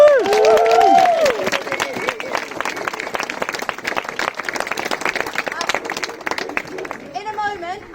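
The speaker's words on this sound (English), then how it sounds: "So please give yourselves a big clap." A crowd claps steadily at the opening of the Railway Gardens gates; voices and a brief cheer rise over the start, with the applause continuing throughout and a voice near the end.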